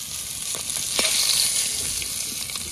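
Catla fish frying in hot oil, a steady bright sizzle with a few soft clinks of utensils, close and fairly loud.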